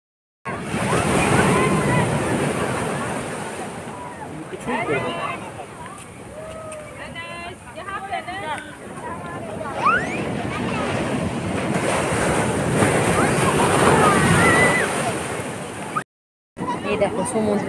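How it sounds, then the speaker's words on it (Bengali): Sea waves rolling onto the beach near Sankarpur: a loud, steady roar of surf with gusty wind buffeting the microphone, and people talking over it throughout before it cuts off briefly near the end. "এই দেখো সমুদ্র একদম সামনে চলে এসছে, আওয়াজটা তোমাদেরকে শোনাচ্ছিল।"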